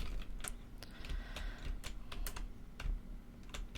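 Arrow keys clatter on a computer keyboard while moving through an indie game: a steady run of quiet, close, irregular clicks with no voice over them.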